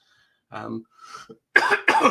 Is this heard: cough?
yes